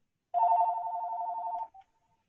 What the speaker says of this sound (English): I've had to mute the phone.